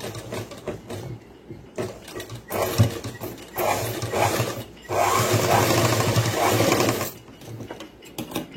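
A sewing machine top-stitches a boys' school uniform pant, its needle motor running in close, loud mechanical bursts with short pauses between runs.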